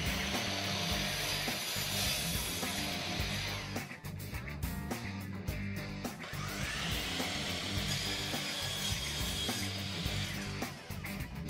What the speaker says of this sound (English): you are ready to start making cuts with your miter saw